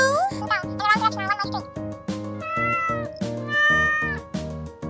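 A small kitten stuck in thorny plants gives a string of high, plaintive meows in quick succession, close and clear, some drawn out into longer cries.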